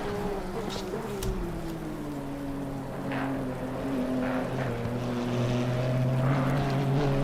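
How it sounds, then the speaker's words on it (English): Rain falling in a racing video game at Donington Park, a steady wash of noise under the droning, shifting engine note of race cars circling the wet track, moderately loud and continuous. "hasn't stopped raining, hasn't really sort of eased off either"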